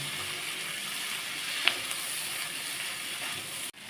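Tomatoes and bay leaves sautéing in a pan for butter chicken, a steady soft sizzle and hiss with one small click partway through, fairly faint and even, cutting off abruptly at the end.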